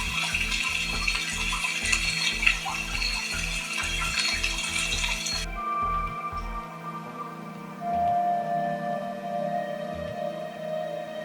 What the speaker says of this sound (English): it actually comes with 24 white noise presets too. From rain to ocean waves